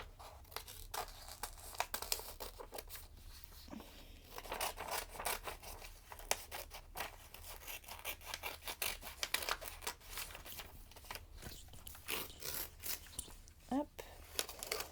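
Scissors snip out a small paper image, a steady run of close, quiet cutting and crinkling sounds with soft paper rustle throughout.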